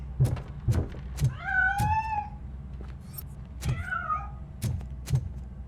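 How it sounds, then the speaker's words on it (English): A cat in the Robocop Rogue City video game gives two clear drawn-out meows between sharp thuds and bangs, close and loud against a low background rumble. "That cat must be hiding inside."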